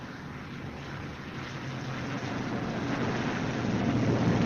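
A Boeing B-29 bomber touches down at 90 to 110 miles an hour amid a broad, steady roar of engine and wind noise that swells toward the end.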